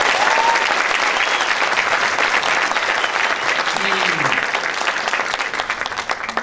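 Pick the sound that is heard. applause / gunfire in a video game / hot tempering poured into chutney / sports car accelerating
applause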